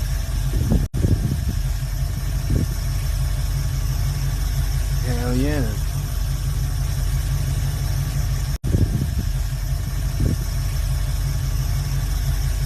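A car engine idles steadily with a low, even rumble close by; someone speaks briefly over it and there are a couple of abrupt cuts.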